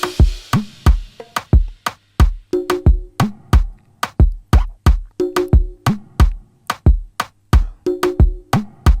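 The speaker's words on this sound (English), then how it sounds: "So the whole percussion kit just sounds like this, with the snare" A slow Zouk/Kizomba drum beat programmed in FL Studio: punchy kick and snare hits repeat in a steady rhythm, with short tonal percussive stabs in some bars and no voices.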